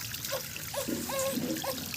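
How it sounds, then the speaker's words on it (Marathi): Water trickles and splashes in short intermittent pours while bathing a baby, fairly close, with soft gurgling bursts and no talking. "तोंडामध्ये पाणी जाऊ नये म्हणून तोंडासमोर हात लावून हे असे आंघोळ घालायची बाळाला"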